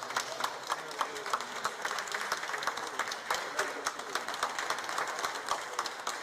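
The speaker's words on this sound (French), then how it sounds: "C'est sous les applaudissements qu'il a fait son entrée ce mercredi matin dans le palais présidentiel" Applause from a gathered crowd as Prime Minister Amadou Gon Coulibaly enters the presidential palace, rhythmic sustained clapping at moderate distance throughout.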